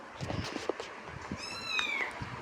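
A cat gives a short, clear meow near the end, fairly close but quiet, preceded by faint shuffling and small handling sounds.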